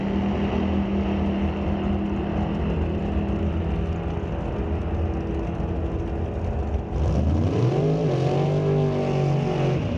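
A 1979 Pontiac drag car with a 496 engine roars loudly and steadily at a drag strip, then its pitch climbs sharply as it launches and accelerates away, engine note rising through the run.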